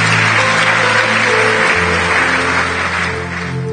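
A church congregation applauding together in acclamation of the Lord, a dense, steady wash of clapping that holds loud throughout with faint music beneath and softening slightly toward the end.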